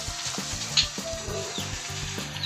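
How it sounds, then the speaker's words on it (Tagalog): Snakehead fish soup with horseradish and malunggay bubbling and sizzling in a pot, a steady close hiss and crackle with soft stirring knocks, no voices. "Kumukulo na pala."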